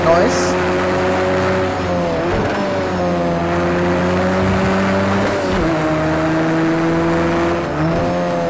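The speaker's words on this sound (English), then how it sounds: "Oh, there was a little bit of blow-off noise." A 300-horsepower KTM X-Bow race car in a racing video game at Laguna Seca holds a steady, loud engine drone whose pitch rises and dips with gear changes, with a faint blow-off valve puff briefly audible.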